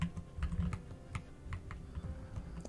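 Close computer keyboard typing while a game plays with mouse and keyboard controls, a steady run of quick irregular key clicks over a low background hum.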